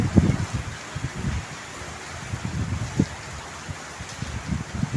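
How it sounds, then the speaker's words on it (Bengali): Rain falls outdoors in a steady, diffuse patter, with a few louder drops and gusty low rumbles breaking through at moderate distance; no talking. "এই দেখেন কি সুন্দর বৃষ্টি হইতেছে আমাদের এদিকে"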